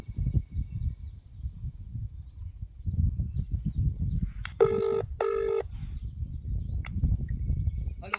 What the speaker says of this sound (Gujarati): પેલા ભોણાનો ફોન કરું